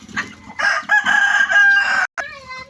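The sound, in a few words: rooster crowing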